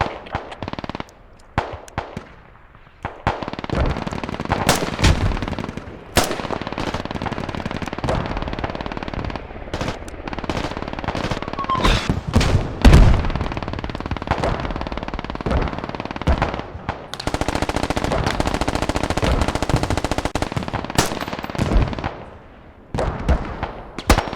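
Machine-gun fire rattles through a battle in the tactical shooter Squad on a Thai server: loud, close bursts of rapid shots with short gaps, some longer sustained volleys and scattered distant cracks, with no talk over it.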